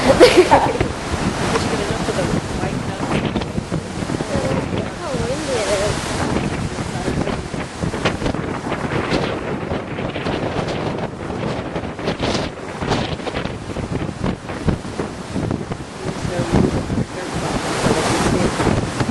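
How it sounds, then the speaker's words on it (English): Strong wind buffets the microphone by the sea, with crashing surf and rushing noise throughout; voices speak faintly under the roar. "It's really windy now."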